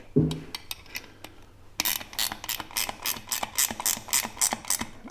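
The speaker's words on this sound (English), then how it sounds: "this uses a 9/16 socket or wrench" A 9/16 socket wrench snugging the single bolt on a Harley Sportster headlight bracket, a close run of quick ratchet clicks in uneven bursts, louder and denser in the second half.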